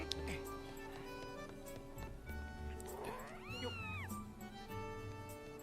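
A cat in the video game Skyward Sword, giving a couple of drawn-out, rising-and-falling meows over soft game music and a background hum, moderately close.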